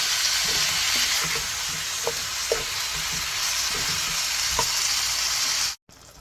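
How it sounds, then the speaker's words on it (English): Beef browns in a tablespoon of oil in a pan, a loud continuous sizzle with scattered stirring taps, ending in a brief silent cut. "So I'm going to cook this till it's slightly browning."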